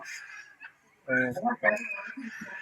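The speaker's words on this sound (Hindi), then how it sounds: "परिंदों की चहचहाहट कम नहीं हो रही" Several birds, including cockatoos, call and squawk nearby in a park in Bahria Town, Karachi, loud harsh cries mixed with chirps in quick overlapping bursts.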